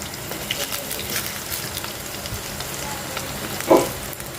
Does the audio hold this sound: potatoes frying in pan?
yes